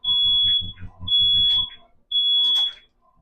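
A smoke alarm shrieks in three loud, high-pitched bursts, the first two close together, while people talk underneath.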